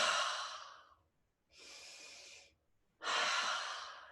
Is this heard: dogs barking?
no